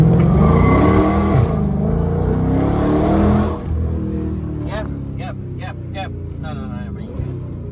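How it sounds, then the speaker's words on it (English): A Dodge SRT 392 launches hard, its engine roaring loudly and steadily for several seconds before easing off, with people talking inside the car afterward. "I want to launch the car real quick right here"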